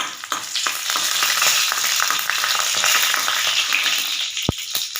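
Dried red chillies sizzle loudly in hot oil in a pan, a steady close frying hiss that fills the whole stretch, ending with a sharp metallic tap.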